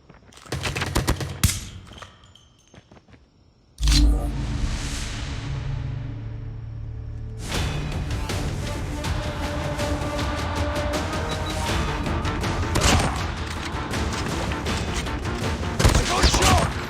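Gunfire from the mobile shooter Call of Duty Mobile on the Hovec Sawmill map, dense automatic bursts and rapid shots running loud and nearly continuous after a brief quiet stretch, with game voice callouts mixed in.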